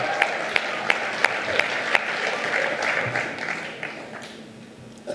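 Audience applause following a speech at the Trianon, steady dense clapping from a crowd with a few sharp louder claps early on, sustained throughout and tapering slightly toward the end.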